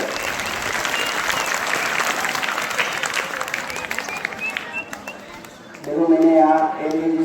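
An audience applauds a student with steady, dense clapping throughout, swelling slightly near the end as a voice begins speaking over it.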